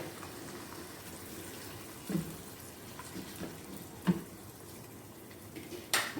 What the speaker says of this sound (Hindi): और अब मैं इसके अंदर 1 गिलास पानी का शामिल करने लगी हूँ।